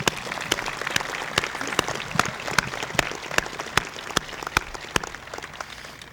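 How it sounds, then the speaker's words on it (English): Graduation ceremony guests applaud parents and loved ones, a modest round of clapping with distinct sharp individual claps standing out over a steady patter, fairly close and continuous. "I think this group of people should get a round of applause"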